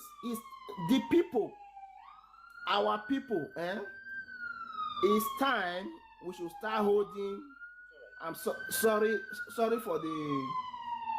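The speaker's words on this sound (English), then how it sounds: "the siren that is passing." A police siren passes nearby, its long wailing tone rising and falling steadily throughout, with someone talking loudly over it the whole time.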